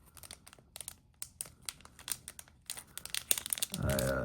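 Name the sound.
opening trading card package, tearing packaging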